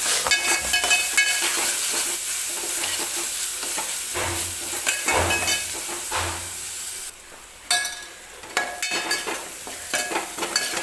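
Ground spice paste for spicy tur dal chakolya frying in hot oil while being stirred: a steady, loud sizzle with scraping strokes throughout, a brief drop in level partway, then renewed stirring and crackle.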